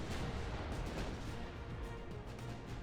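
Port side torpedo launchers firing during a naval battle in Ultimate Admiral Dreadnoughts, heard as a continuous dull rumbling barrage of muffled thuds and booms against steady battle noise, with no clear separate shots.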